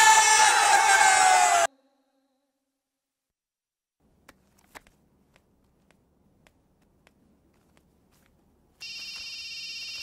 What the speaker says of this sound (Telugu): Hello, phone ఎత్తానాలమ్మా.